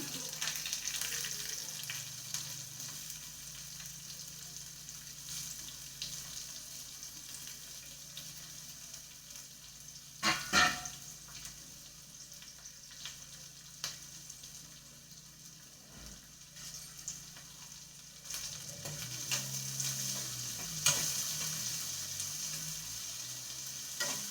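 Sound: frying crushed garlic and onion in pan

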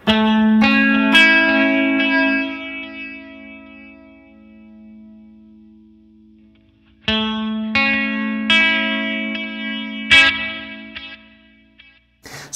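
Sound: warbling modulated delay from Flamma FS03 guitar pedal

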